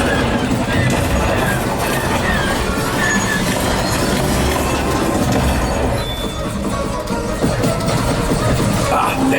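A rumbling train passes as a ride effect on the Star Wars Galaxy's Edge Smugglers Run attraction at Walt Disney World, a dense, loud, continuous roar with rattling and squealing textures, with voices mixed in.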